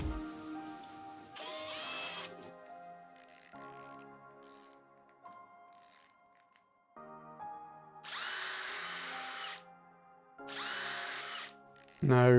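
Power drill boring holes into solid wood to fit a stair gate, running in several bursts of a few seconds with short pauses between, fairly close and loud, with no voices.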